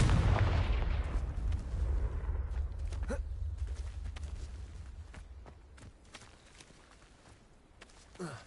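A Confringo blasting spell in Hogwarts Legacy bursts with a loud booming explosion at the start that rolls off into a fading rumble, followed by scattered footsteps and small impacts, with another thump near the end.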